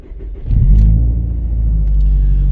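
A car engine turns over and catches, settling into a loud, steady low rumble with a brief rev near the start, close by and with no talk over it.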